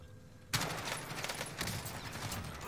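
Sustained automatic gunfire from Kilo and MP5 weapons in the video game Call of Duty Warzone erupts suddenly after a quiet moment and continues as a dense, loud stream of rapid shots.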